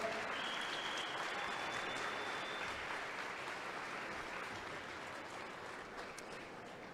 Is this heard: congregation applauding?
yes